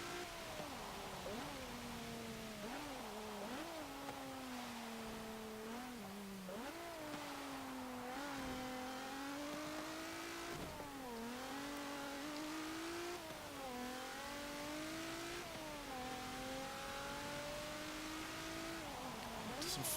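A 2014 Volkswagen Golf R engine in the racing game Forza Motorsport 7, revving steadily and climbing through gears with repeated rising whines and brief dips at each shift, sustained and fairly quiet.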